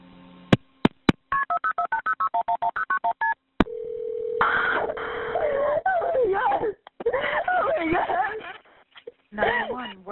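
An emergency call is placed: a rapid run of loud telephone keypad tones is followed by a long steady line tone. Voices then talk and cry out over the line.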